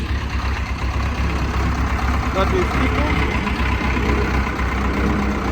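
Ursus C360 tractor fitted with a Tur 2B front loader idles nearby with a steady low diesel rumble, while a person talks over it.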